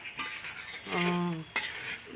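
Rice being stir-fried in a pot for meat khichuri, with a continuous sizzle, scraping spatula strokes and a brief ringing metallic tone midway, close up with no talk.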